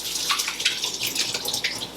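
A kitchen tap runs while hands are rinsed under it, a close, steady splashing hiss with small fluttering changes as the hands break the stream, and no one talks.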